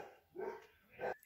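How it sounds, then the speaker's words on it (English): A dog barks twice at close range, two short separate woofs in a quiet room with no talking. "telling the dog to shut up and barking"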